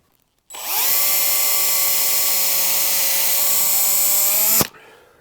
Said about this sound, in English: Quickly drill it out